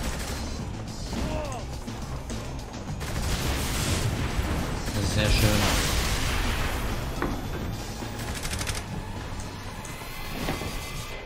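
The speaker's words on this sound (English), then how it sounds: "Explosion." A loud explosion in Saints Row: The Third Remastered bursts midway through a dense wash of crashing, rumbling noise that fills the whole stretch.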